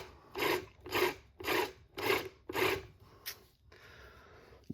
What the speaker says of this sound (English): it is rubbing on the motor